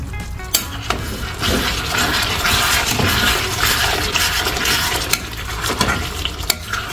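Mutton pieces frying in a pan with ground spices, stirred steadily by hand: a continuous close sizzle with scraping spoon strokes and occasional sharp clinks of utensil against metal, no talk.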